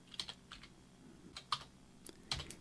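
A few quiet computer keyboard keystrokes, tapped in small clusters as a 3ds Max shortcut is entered, close and otherwise silent.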